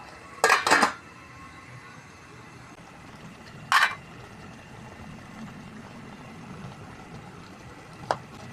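Metal lid set onto a cooking pot of chicken adobo, giving two close clanks in quick succession, then a third a few seconds later and a faint tap near the end, over a low steady kitchen background.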